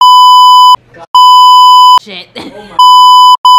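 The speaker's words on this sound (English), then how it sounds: "You better beep all this out." Loud, steady censor bleep tones cover swearing, with three long beeps and a couple of short ones, broken by brief gaps where a voice comes through.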